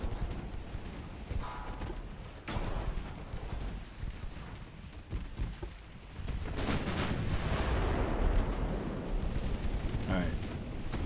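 Heavy 11-inch naval guns booming in the warship game Ultimate Admiral: Dreadnoughts, Black Sea Fleet 1941 battle, with broad rumbling blasts and a swelling roar around the middle, loud and continuous, while a voice talks.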